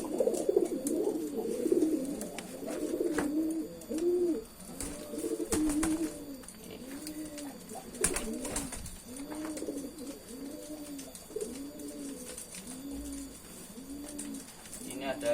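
Silver pigeons coo repeatedly in a steady rhythm of soft, low, rounded calls, close by, with occasional sharp clicks and rustles.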